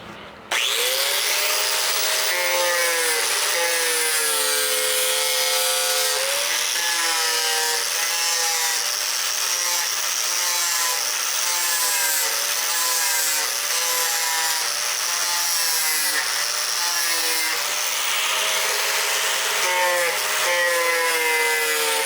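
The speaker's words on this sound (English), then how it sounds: "So I'll just fire this this grinder up just to kind of let you guys see how I do it." An angle grinder grinds down a metal weld in one continuous, loud, close high-pitched whine that holds steady for over twenty seconds, its pitch wavering slightly as the edge of the disc bites into the metal.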